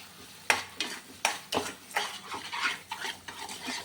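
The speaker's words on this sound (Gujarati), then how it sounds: "હવે સુગર મેલ્ટ થાય ત્યાં સુધી આપણે એને હલાવવાનું છે" Amaranth sheera stirred in a pan while sugar melts, close spoon scrapes and soft knocks repeating in a loose rhythm roughly every half second, moderately quiet with no talk.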